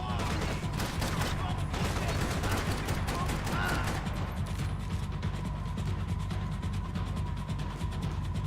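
Rapid gunfire in Max Payne 3, dense bursts of shots and mechanical clatter throughout, loud and close, with a low game drone beneath.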